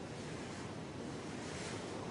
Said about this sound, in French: Le vent de terre s'est levé et pousse en douceur les voiliers des pêcheurs vers le large.